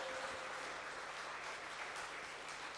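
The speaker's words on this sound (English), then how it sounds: "So please give me a big round of applause for both Kenji and Volha." A conference audience applauds after a talk, heard as a faint, steady, even wash of clapping with no breaks.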